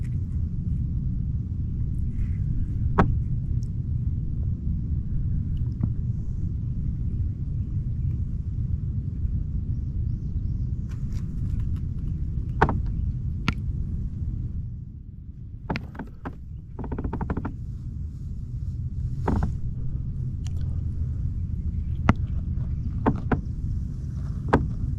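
Steady low wind rumble buffets the microphone on open water during a spring kayak fishing trip, a constant blustery roar with a few faint knocks and clicks on top, no talking.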